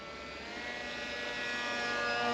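A cheap radio-controlled model plane makes a low flyby, its small electric motor a steady buzzing whine that slowly swells louder as it approaches, with no voices.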